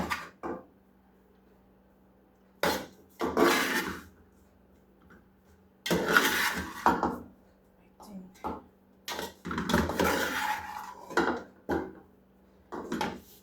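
Mixing syrup into gersan khubos by hand: clattering scrapes and knocks of a utensil against a pot or bowl in irregular bursts, with pauses of near silence, no talk.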